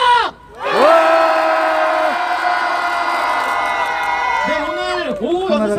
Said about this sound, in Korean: 마지막으로 우리 함성 3초간 지르고 기자회견 마치겠습니다. 함성 시작!